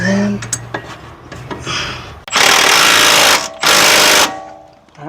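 Power tool tightening a suspension bolt on a Honda Accord during a suspension refresh, two loud buzzing bursts of a second or so each, close by, following brief metallic clinks and a voice.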